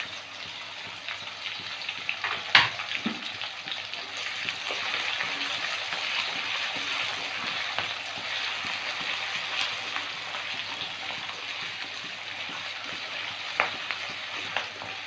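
Ginger and garlic frying in a pan give a steady, soft hiss that runs the whole time, with a few faint stirring clinks and scrapes near the start and end.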